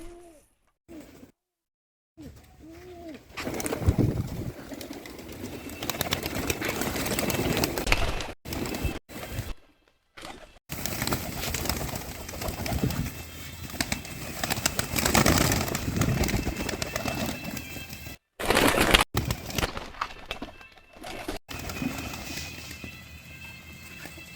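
Soft coos and rustling from nearby pigeons at feed, with quiet scuffling and brief gaps of silence throughout.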